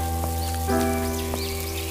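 Steady rain patters on a surface, soft and even, with a few faint chirps in the background.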